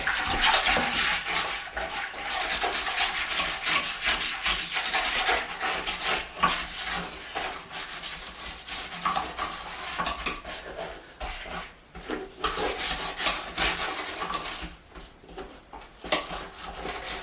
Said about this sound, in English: Now, I'll clean the toilet bowl.